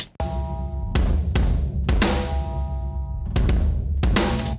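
Drums play through two bands of Ohmforce's EMINENCE multi-band distortion, a mangled low band with a cleaner upper band, giving punchy kicks and bright crashing snare and cymbal hits over a sustained low tone.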